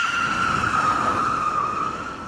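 A motorcycle skids under heavy rear-brake pressure with the clutch pulled during advanced riding and braking training, giving a sustained, loud tyre squeal with a steady pitch that continues for over two seconds with no talking.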